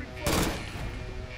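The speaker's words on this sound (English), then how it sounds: "So yeah, explosive MG rounds." Explosive machine gun rounds firing in Fallout 4 with the America Rising 2 mod, heard as one short, loud burst of gunfire over a steady noisy background.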